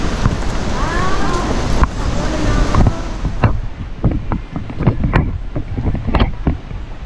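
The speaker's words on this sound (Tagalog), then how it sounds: "Grabe yung motor oh." A motorboat engine rumbles loudly and continuously on the water, with heavy wind buffeting the microphone and scattered knocks and splashes.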